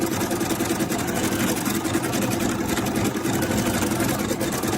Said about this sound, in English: we have about 1 minute left on our embroidery. As it's sewing right along, there's the big butterfly wing